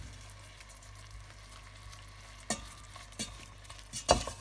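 Dry spices and tandoori powder fry in a pot for chicken tikka masala, a soft steady sizzle with a few sharper scrapes of stirring near the end, no voices.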